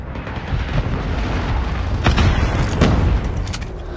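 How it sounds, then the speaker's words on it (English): A Predator missile strike in a multiplayer shooter game lands as a dense rumbling explosion, with sharp bursts of gunfire crackling on top, loud and sustained for a few seconds. "Predator missile inbound."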